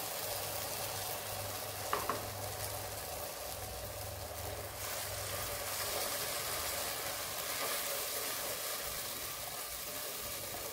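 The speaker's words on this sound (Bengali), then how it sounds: "এই পেস্টটা আমি এর মধ্যে দিয়ে দিচ্ছি, কেননা এটাকেও তোমার দিয়ে একটু ফ্রাই করতে হবে।" A cashew, ginger and garlic paste frying with onion in a pan, a soft continuous sizzle with a brief clink of a utensil early on, fairly quiet and even.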